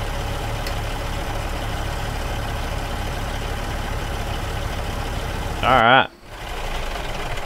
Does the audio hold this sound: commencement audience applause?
no